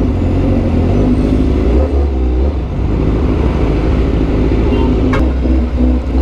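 Engine and traffic noise from a Honda CBR1000RR-R Fireblade SP motorcycle riding through slow road traffic, a steady loud rumble with low drone and passing vehicles, no talk.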